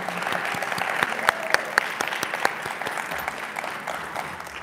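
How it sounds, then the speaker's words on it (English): Steady audience applause fills a press conference kicking off Dallas Arts Month, with many hands clapping together at an even level and a few sharper claps standing out near the middle. "So let's give them a little round of applause."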